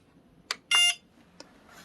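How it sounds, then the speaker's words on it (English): A Samsung UV sanitizer sounds a short, bright electronic beep when its cycle finishes, with a couple of faint clicks around it in a quiet room. "So that light turns green and then it beeps after 10 minutes."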